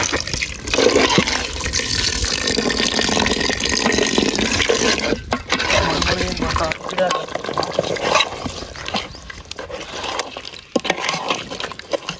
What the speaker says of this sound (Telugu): మనం ఇలా నీళ్ళు పోసుకొని మంచిగా అడ్జస్ట్ చేసుకుందాం